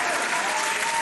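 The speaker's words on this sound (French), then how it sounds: "J'ai voulu mettre des applaudissements et c'était beaucoup trop fort." Loud added applause sound effect, a dense, even wash of clapping that fills the whole moment without a break.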